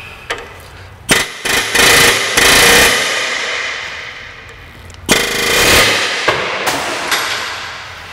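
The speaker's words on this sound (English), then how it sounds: "Air hammer." An air hammer fires in loud rapid bursts while removing a stabilizer link on a 2004 Jeep Wrangler, rattling and clanging against metal, with short pauses between bursts and a few single sharp knocks.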